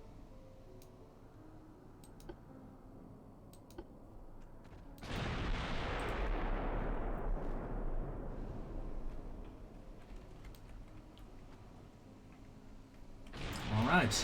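Naval artillery fire in Ultimate Admiral Dreadnoughts: a loud, heavy boom hits midway and rolls into a long fading rumble, with a second sharp blast near the end, over game ambience and a brief spoken word.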